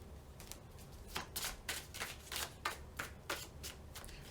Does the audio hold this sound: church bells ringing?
no